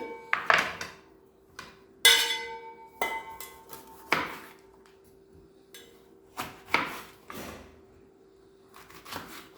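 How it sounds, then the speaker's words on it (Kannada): A knife chops brinjal into big pieces on a board, and the pieces are dropped into salted water for bolu huli. Close, irregular sharp thuds and clunks are separated by quiet gaps. "ದೊಡ್ಡ ದೊಡ್ಡ ಪೀಸೇ ಇರಲಿ ಇಷ್ಟಿಷ್ಟೇ ದೊಡ್ಡ ಪೀಸ್ ಮಾಡ್ತೀನಿ ಡೈರೆಕ್ಟ್ ನೀರಿಗೆ ಹಾಕ್ತೀನಿ"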